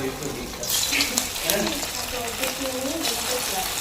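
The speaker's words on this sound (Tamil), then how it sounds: "எண்ணெய் நல்லா காஞ்சிருச்சு. சிக்கன் போட்டுக்கலாம்." Marinated chicken dropped into hot oil, a burst of sizzling and bubbling frying that starts loud and settles into a steady crackle, with a voice speaking over it.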